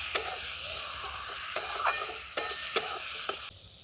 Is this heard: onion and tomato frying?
yes